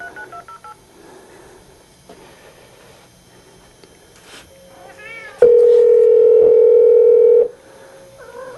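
Telephone dialing followed by a loud, steady dial tone lasting about two seconds, after quiet background noise and faint sounds at the start of a workshop scene.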